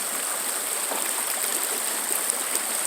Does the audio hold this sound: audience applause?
no